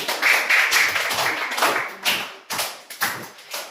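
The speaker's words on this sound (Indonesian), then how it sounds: "Berikan tepuk tangan teman-teman sampean bisa bermain." Classroom applause from students for classmates after a role-play activity, a small group clapping in uneven bursts with distinct individual claps, fading and restarting a few times, fairly close.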